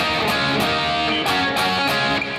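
Electric guitar mimicking a synth keyboard part from a song, a dense, sustained, distorted tone with rhythmic pulsing accents, played alone at a steady loud level.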